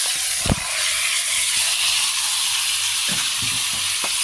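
Shrimp frying in a pot of hot oil with dry spices, a loud continuous sizzle and hiss close by, with a few sharp stirring clanks breaking through.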